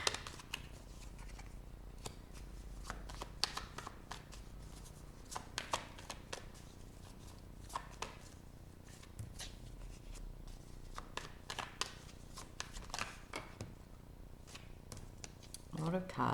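Tarot cards are shuffled and drawn close by in a quiet room, with sharp irregular flicks and slaps of the deck scattered across the stretch and soft rustling between them.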